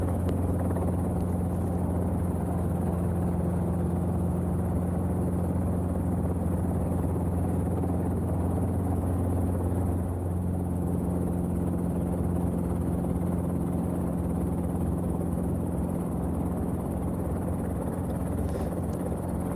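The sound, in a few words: Robinson R22 helicopter landing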